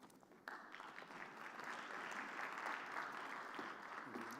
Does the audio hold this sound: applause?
yes